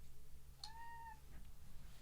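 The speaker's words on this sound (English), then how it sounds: "Boo, if you heard her, for the listeners, that's my cat, Boo." A pet cat lets out one short, faint meow indoors over a low background hum.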